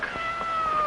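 A cat gives one drawn-out meow, close and clear, over a faint room background in an old television sitcom scene.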